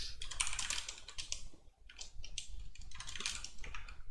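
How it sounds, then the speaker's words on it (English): Rapid, close computer keyboard typing clatters continuously in quick bursts, with a brief pause near the middle. "I'm really bad at typing."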